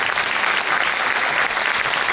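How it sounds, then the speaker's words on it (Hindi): Vigorous, sustained applause from a poetry recital audience, a thick even roar of clapping hands heard close and loud throughout with no speech. "दोनों हाथ उठा के एक बार जोरदार तालियां बजाएं"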